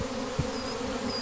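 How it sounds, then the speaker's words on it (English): Honey bee drones buzz steadily at a crowded hive, a close, continuous insect drone with one brief low bump partway through. "Look at all the drones in here. Drones are male bees."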